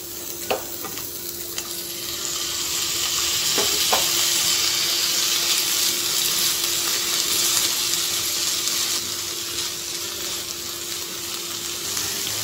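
Tomato pieces frying in a pan for ridge gourd peel chutney give off a steady, moderately loud sizzle that rises after a couple of seconds and holds, with a few faint stirring clinks and no talk.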